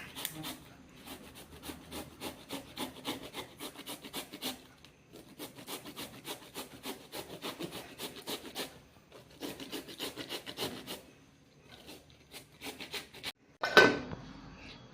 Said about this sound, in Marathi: आता हा भोपळा आपण किसून टाकायचा